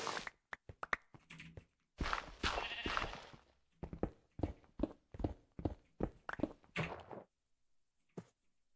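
A black sheep bleats in the game CC:Endventure, rendered as a series of short, clipped, rhythmic bleat-like bursts separated by silences, with one longer call early on and no speech.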